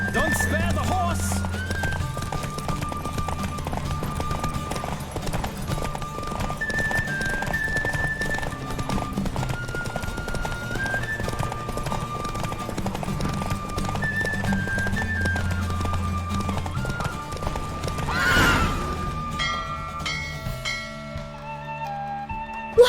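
Hooves of a galloping horse clip-clop steadily during a horse race in The Witcher 3: Wild Hunt, mixed under loud, continuous in-game music with a brief swell near the end.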